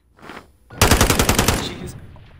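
Rapid burst of gunfire from a Call of Duty match, a loud run of about a dozen close, evenly spaced shots following a brief murmur, then trailing off into quiet.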